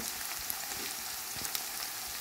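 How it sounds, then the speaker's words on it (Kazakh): Onions frying in a pan, a faint, even hiss of sizzling oil with light crackles and a couple of soft ticks, close and steady, no voices. "Өстіп пиязымызды қуырып аламыз жақсылап."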